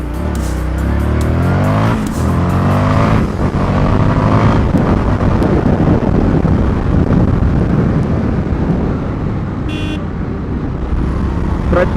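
An Indian FTR 1200 flat-track inspired motorcycle pulls away from a standstill, its engine rising in pitch through loud accelerating sweeps, with heavy wind roar building as speed climbs.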